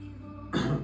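A single short, rough cough bursts out after a moment of quiet room tone, loud and close.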